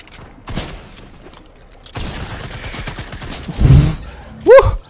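Gunfire in the video game Fortnite, a few sharp shots and bursts spread through the moment amid game effects, ending in a loud close blast with a rising tone.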